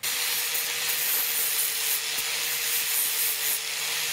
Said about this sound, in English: Got the flap disc on the angle grinder and just gonna take a little bit of material off.